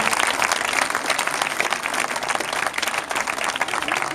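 Audience applause at a poetry prize ceremony, a dense, sustained burst of many hands clapping, loud and even throughout the short span.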